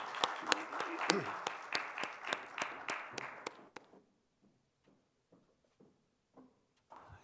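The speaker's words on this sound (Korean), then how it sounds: "영광의 박수하겠습니다" Congregation applause during a Sunday church worship service, a few seconds of dense rhythmic clapping with some voices mixed in, cutting off abruptly and leaving scattered faint taps and quiet room noise.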